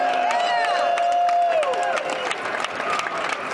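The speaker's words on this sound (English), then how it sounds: "Let's clap that shit up." A conference audience at VEECON 2022 breaks into clapping and crowd noise, dense applause that thins out toward the end, with a voice and tonal sounds mixed in.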